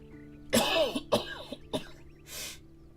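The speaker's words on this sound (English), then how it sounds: "I had to cough" Several throat-clearing coughs from one person during a livestreamed game session, three sharp bursts close together followed by a softer breathy exhalation, close to the microphone with no talk.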